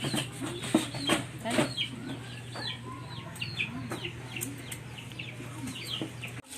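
Chickens cluck and chatter in short, scattered calls over a steady low hum, several birds close by with no talking.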